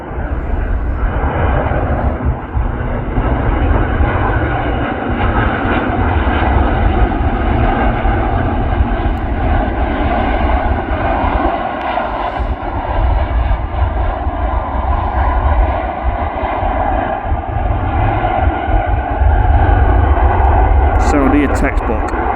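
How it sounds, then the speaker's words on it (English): A Saudi Airbus A340 airliner lands at Manchester Airport: a loud, steady jet engine roar with deep rumble that holds for over twenty seconds. "let's see Saudi make a textbook landing"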